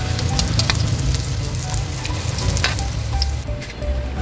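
Second batch of chicken frying in hot oil, a loud, steady close-up sizzle with fine crackling pops throughout and no talking.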